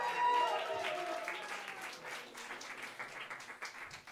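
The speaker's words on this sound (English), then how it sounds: "Please, a big applause." Concert audience applause in a hall at a Berklee graduate orientation concert, starting full and gradually thinning over a few seconds, with a brief voice at the very beginning.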